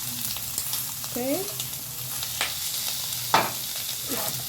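Bell peppers sizzle and fry in a pan for sausage shawarma, with steady crackling, occasional stirring scrapes and a brief spoken word.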